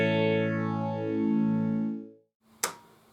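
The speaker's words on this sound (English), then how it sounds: "just a quick momentary strum" A quick electric guitar strum soloed from a compressed mix, sustained bright chord decaying over about two seconds, then a brief gap and a short sharp click.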